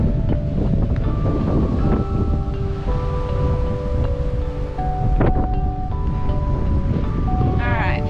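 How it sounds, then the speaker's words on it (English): Steady, loud wind rumbling across the microphone on the Camel Back hilltop trail in Tidbinbilla Nature Reserve, Australia, with faint tonal hums and a brief sharp knock partway through. "It's pretty, but so windy today."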